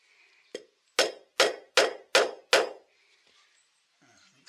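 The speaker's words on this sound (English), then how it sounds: "Rubber hammer." Rubber hammer tapping a bearing into a vintage Husqvarna chainsaw during a rebuild: one light tap, then five sharp, evenly spaced metallic knocks, close and loud.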